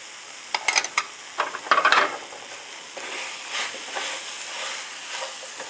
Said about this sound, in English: mix them and let it fry for 2 to 3 more minutes